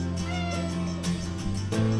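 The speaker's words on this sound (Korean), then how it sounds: "이때쯤 저에게 다가오는 고양이" A cat meows several times close by, drawn-out and plaintive cries in quick succession.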